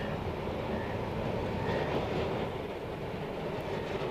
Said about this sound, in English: Jeff Todd captured all the atmosphere of this bustling tramway with its fleet of 64 virtually identical vehicles